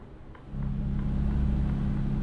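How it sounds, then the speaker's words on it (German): A low, steady truck engine drone in the Euro Truck Simulator 2 video game rumbles throughout, rising slightly in level after a moment and then holding even, with no voices. "ihr wollt ja auch ein bisschen Motor, Motor hören"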